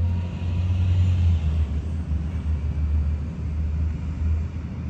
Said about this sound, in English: My car just turned on.